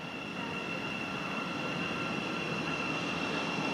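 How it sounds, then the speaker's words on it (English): A Class 717 Great Northern electric train pulls into New Southgate station at night, a steady broad rumble and rail noise with a faint high whine, constant and fairly close. "the first train that's just pulled in is a class 717 working Great Northern service to Moorgate from Welwyn Garden City"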